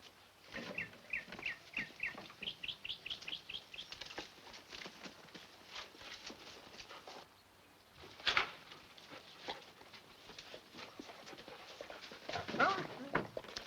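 A dog in a classic crime drama film gives short, repeated barks and yelps at moderate distance, mixed with chirping birds and faint clip-clop, while people talk nearby.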